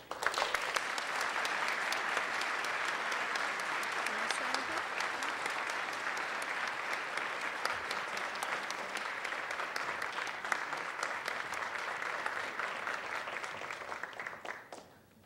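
A crowd at a Greater Keene Chamber of Commerce gala gives a long, dense round of applause, loud and even throughout, before dropping off at the end.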